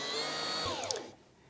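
A Viking Onyx 15 sewing machine winds a bobbin with a high, whirring motor hum that holds steady for about a second, then cuts off with a brief click.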